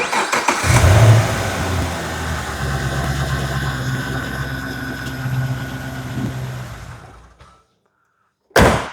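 A 2011 Chevrolet Camaro SS with a 420-horsepower V8 and six-speed cranks and fires up loudly, then settles into a deep, steady idle for several seconds before cutting off, with a short burst of noise at the very end.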